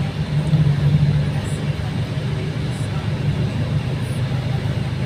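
Dense road traffic in Dagupan City, heard as a continuous low rumble of passing vehicles and engines with faint horn-like tones, and a person talking over it.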